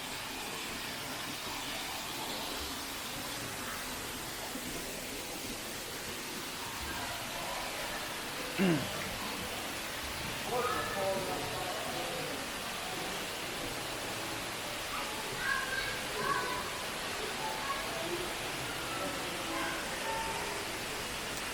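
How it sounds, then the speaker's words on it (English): A 40-foot indoor waterfall pours from the ceiling into a pond, making a steady, broad rushing hiss throughout, with faint voices and footsteps in the background. "So the waterfall is 40 feet tall, coming from the top of the ceiling down into a pond."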